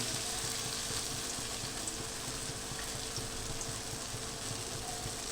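Steady, dense sizzling of raw banana fritters frying in shallow oil, continuous and close, with no talking.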